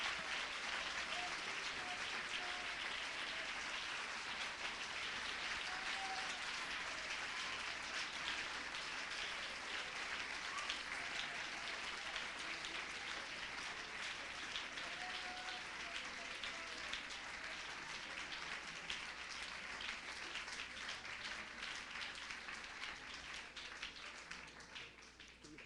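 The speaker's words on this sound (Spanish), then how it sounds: "Dele ese aplauso a la presencia del Señor." A church congregation applauding during a sermon, a long, dense, even wash of clapping that sounds fairly distant and faint, continuing steadily without a break and tapering slightly at the end.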